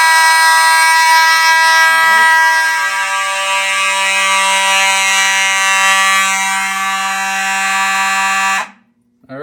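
Mechanical fire alarm horn with strobes in a home alarm system test, blaring continuously at close range with a harsh buzzing tone for about nine seconds before cutting off abruptly.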